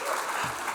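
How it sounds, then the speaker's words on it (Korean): A church congregation at a revival meeting breaks into a dense, steady wash of clapping that fills the room for a moment, with a few voices faintly mixed in. "우리 하나님께 영광의 박수 올려드리겠습니다."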